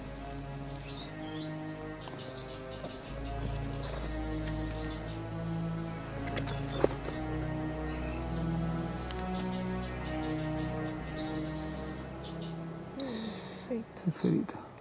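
Injured birds, some missing wing feathers and with glue-damaged plumage, chirp and tweet in soft repeated calls at low volume, mixed with quiet voices nearby.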